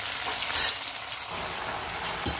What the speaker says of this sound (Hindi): इसे हाई फ्लेम पर ही हमें डीप फ्राई करना है।